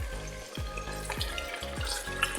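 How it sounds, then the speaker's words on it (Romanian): Chicken legs fry in a hot pan, a steady close sizzle with no talking and a low rhythmic pulsing beneath it. "Vom pune puiuțul la prăjit, să scoatem sucul din el."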